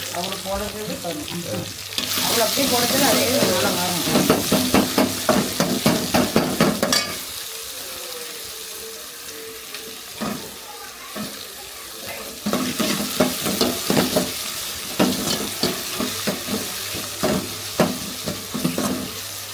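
Crushed onion, green chili and garlic fry in a pan for a chicken gravy, with a broad steady sizzle and repeated stirring scrapes that come in bursts. The sizzle drops to a quieter hiss midway, then swells again near the end.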